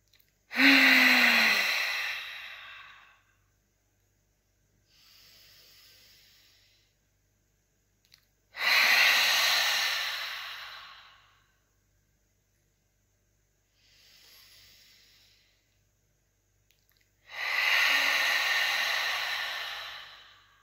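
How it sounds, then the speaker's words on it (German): Slow, deep breathing during a guided breathing exercise: three long, loud exhalations spaced about eight seconds apart, each followed by a softer inhale, with near silence between and no talking. "atme tief ein"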